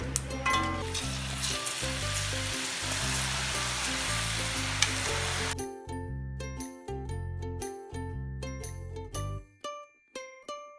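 Ribbon pakoda dough fries in hot oil with a loud, dense bubbling sizzle that abruptly gives way to sparse crackles and pops, with a rhythmic low thumping underneath.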